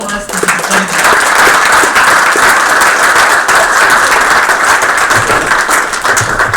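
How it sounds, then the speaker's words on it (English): Sustained applause fills a board meeting room, dense and loud throughout with no pauses, a crowd clapping steadily from start to finish. "Can we give a round of applause to these ladies?"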